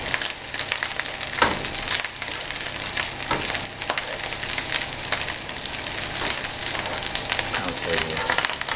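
Fried rice crackles and sizzles steadily in a hot frying pan over medium-high heat, a dense continuous frying hiss with occasional louder pops and scrapes.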